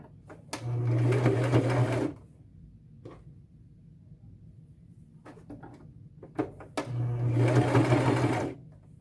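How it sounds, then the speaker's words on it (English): A sewing machine stitches fringe onto a denim belt bag in two steady bursts, each about one and a half seconds, with a quiet pause of handling and faint rustling between them. "then I lay down the next piece and sew over it"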